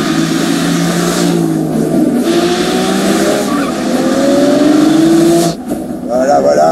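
A Mercedes-AMG GT S or Porsche 911 accelerates hard on a race track, its engine note climbing in pitch over a steady loud roar, followed by a brief lift-off and renewed revving, with people talking over it.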